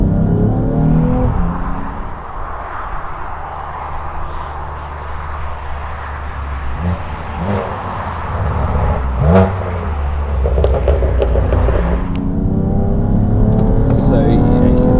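A steady engine drone and road roar fill the cabin of a BMW F80 M3 with Bilstein B6 EDC adjustable dampers driving in sport mode, a constant low hum with slight swells and bumps, while someone talks over it.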